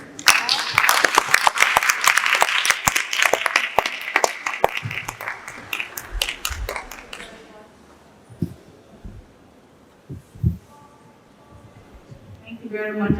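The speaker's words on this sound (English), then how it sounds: "Another round of applause for Mr." Audience applause after a talk at a languages conference, loud and dense for about seven seconds before fading into scattered claps, shuffling and faint murmurs.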